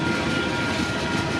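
A mixed freight train rolls past at steady close range on a smoky day, a continuous broadband rumble and rail roar with no clear breaks or horn.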